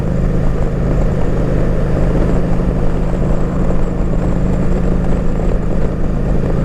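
A 1700 cc Kawasaki Vaquero motorcycle engine runs steadily with a loud, continuous low drone and a constant even rumble close by, with no voices.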